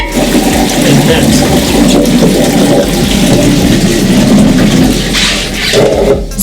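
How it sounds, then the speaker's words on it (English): A toilet flushes in a rush of swirling water while a toilet brush is rinsed in the flow, loud and close, with sloshing agitation throughout; a voice speaks faintly underneath. "I will flush the toilet and use that water to rinse my toilet brush"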